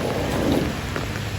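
Heavy rain pours steadily and loudly throughout, a dense continuous roar with no voices, on a day out with friends at a waterlogged spot.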